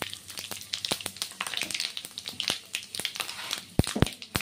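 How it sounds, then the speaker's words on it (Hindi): Panch phoron spices hit hot oil in a kadai that was just used for frying small fish pakoras. The result is a loud, dense sizzle with rapid sharp crackles and pops, close by and steady throughout, with no talking. "मेरा तेल हो गया है गरम और इसी पे जगह पे हम डालेंगे ये पचफोरन"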